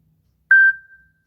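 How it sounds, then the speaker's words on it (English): A single short electronic beep from a phone notification, a clean tone ringing out briefly and decaying into silence. "That was my phone."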